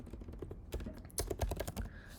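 Quick bursts of keystrokes on a computer keyboard as a command-line instruction is typed at a desktop computer, close and fairly quiet, with an uneven rhythm of clustered taps and short pauses.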